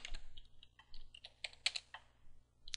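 Someone types a short reply on a computer keyboard in a quiet room, a quick irregular run of soft, close key clicks lasting a few seconds with no talking.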